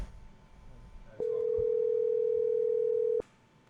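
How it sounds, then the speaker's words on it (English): An outgoing telephone call gives a single steady ringback tone lasting about two seconds, clear and close over a quiet room background. "The phone is ringing."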